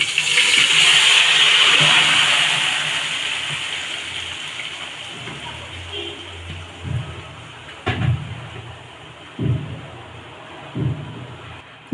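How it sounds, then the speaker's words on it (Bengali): Meat tipped into a pot of hot oil with bay leaves gives a loud rushing sizzle that fades over several seconds, followed by a few spaced spoon knocks against the pot. "এখন আমি মাংসগুলা ঢেলে দিচ্ছি"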